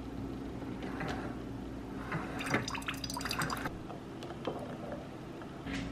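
Coffee pours into a cup, giving soft trickling and splashing with a few brief louder spatters in the middle, quiet and close, over a low background hum.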